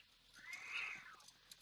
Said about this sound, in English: Jeez, cats must be outside.